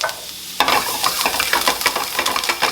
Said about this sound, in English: you're going to allow it to saute for about 2 to 3 minutes before you add your meat